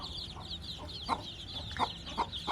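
A native desi hen on a rooftop clucks softly and repeatedly in short, irregular bursts, with faint peeping from her ten chicks in the background and no talking.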